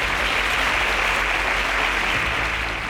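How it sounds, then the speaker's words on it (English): Audience applause at a televised competition show, steady loud clapping filling the room without a break. "Please, can we give them a round of applause?"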